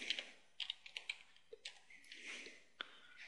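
Keys on a computer keyboard are tapped in a short, uneven burst of clicks, close and fairly quiet, with no talking.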